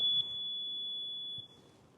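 An electronic voting machine at a municipal polling booth gives a single sustained high-pitched electronic beep after a vote is cast, clear and steady for just over a second before it cuts off, with quiet room tone around it.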